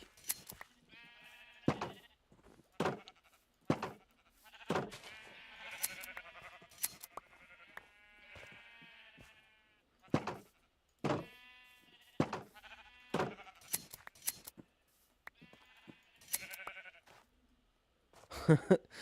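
Sheep in Minecraft bleat over and over in short, irregular calls, close and fairly loud, with a few sharp clicks between them and no voices.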